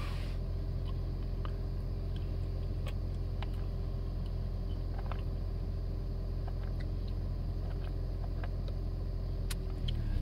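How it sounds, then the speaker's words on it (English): A 2016 Toyota Yaris Hybrid's petrol engine hums with a low, steady rumble inside the car for about ten seconds, faint ticks and cabin noises over it, before the drone fades out at the very end as the engine switches off. "Now motor he go off again."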